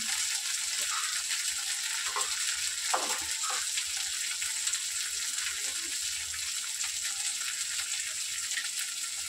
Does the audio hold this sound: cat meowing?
no